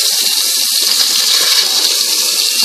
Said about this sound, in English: Nice flow of water out of here